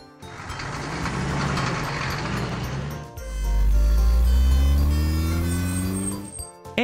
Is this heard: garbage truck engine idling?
yes